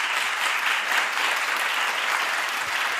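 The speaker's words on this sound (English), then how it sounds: "Can I get a new round of applause for all our speakers?" An audience at a tech summit panel session gives a steady round of applause, with dense clapping that holds evenly at the same loudness from start to finish and no talk over it.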